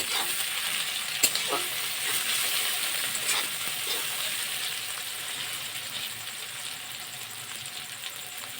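Ingredients sizzle in hot oil in a pan over a low-to-medium gas flame, a constant close crackle with occasional scrape and clink from stirring, no voices.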